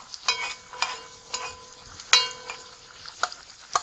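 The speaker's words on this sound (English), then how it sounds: "I'll saute my pimentos and my onions in the oil" Pimentos and onions sauté in a few tablespoons of hot vegetable oil in a pot, a low sizzle broken by sharp, irregular metallic clinks of a stirring utensil.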